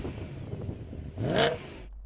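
An older BMW M3 engine burbles at a moderate distance, then revs up sharply in one rising burst before dropping off and cutting out.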